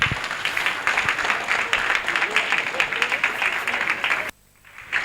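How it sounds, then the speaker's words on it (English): Audience at a meet and greet applauds to welcome a speaker, with dense sustained clapping that cuts off abruptly near the end. "Can you please give him a round of applause?"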